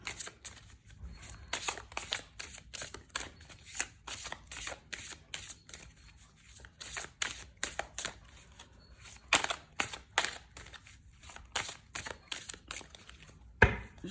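A deck of tarot cards is shuffled by hand, close up, in a long run of quick riffling bursts with short pauses and an irregular rhythm.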